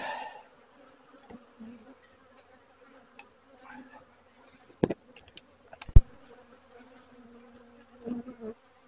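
Honeybees humming around a beehive during an inspection, a faint continuous drone broken by a few sharp knocks and handling bumps.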